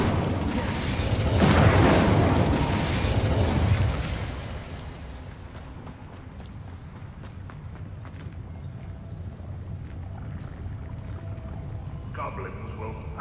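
Incendio fire spell cast in the video game Hogwarts Legacy: a loud, broad whooshing blast that swells for about four seconds, then settles into a lower rumbling ambience with scattered small clicks.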